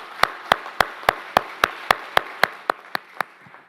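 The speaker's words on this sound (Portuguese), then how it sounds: "vamos dar uma salva de palmas mesmo." A church congregation claps together in a slow, steady rhythm, about a dozen evenly spaced sharp claps that fade slightly toward the end, with no talk.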